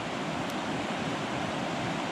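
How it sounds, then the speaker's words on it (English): A river flows steadily beside a motorcycle campsite near a campfire, heard as a broad, constant rushing wash with no breaks, filling the whole scene alone. "The sound of the river."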